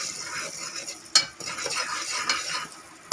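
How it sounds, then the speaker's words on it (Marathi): Masala spices with turmeric frying in hot oil for a spicy mutton dish, close and moderately quiet, with a bright continuous sizzle and scraping stirs, including one sharp clink of a utensil partway through. "हा मसाला तेलात फ्राय करून घ्या।"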